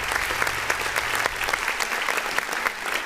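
Applause sound effect triggered by a clap button, a steady recorded crowd applause with dense rapid claps at even loudness throughout.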